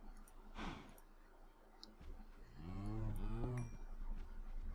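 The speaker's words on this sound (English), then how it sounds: "If we look over in the corner now, we have cows." Cows in the Minecraft modpack Project Ozone 2 give a long, drawn-out moo up close, preceded by small clicking game sounds over a quiet background.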